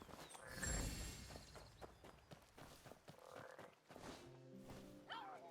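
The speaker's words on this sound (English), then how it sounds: "Frog." A frog croaks in a video game, a loud throaty burst near the start followed by softer scattered clicks and steps, with a brief tonal game sound at the end.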